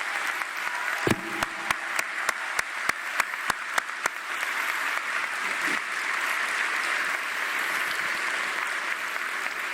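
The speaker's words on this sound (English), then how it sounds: "I want to give you guys a big shout out and a round of applause" Audience applause for military servicemen and servicewomen at a Meridian Health event: an opening run of sharp, separate claps gives way to a steady, moderately loud wash of clapping that fills the rest of the clip, with no talk.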